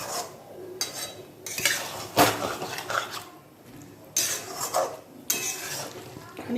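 Chicken coated in spice paste being sautéed and stirred in a pan, heard as repeated bursts of utensil scraping and clattering against metal, with only a faint sizzle between strokes.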